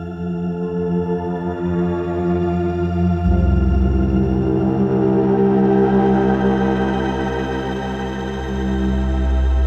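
A dense, washed-out shimmer reverb swell from a Bopp & Steve Deconstructed Reverb module in float mode, with bright shimmering overtones thickening over time, loud and continuous with a deep low layer entering partway.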